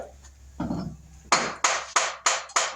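A hammer striking the starter of a 1969 Roadrunner, five sharp metallic blows in a steady rhythm, close and loud, after a brief duller knock, with no talking.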